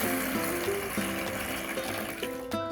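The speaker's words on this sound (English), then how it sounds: "Dump some of this water in here." Water from a gold-prospecting pan is dumped into a container at a river bank, a steady close trickling pour that runs throughout and stops abruptly near the end, with harmonic tones in the background.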